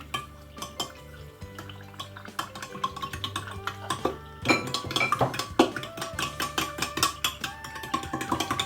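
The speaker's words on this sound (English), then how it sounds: "we are going to make sure that we stir this very well for everything to incorporate" A spoon stirs sugar into doughnut dough mixture in a bowl, giving close, busy clinks and scrapes against the bowl in an uneven, steady rhythm, with no talking.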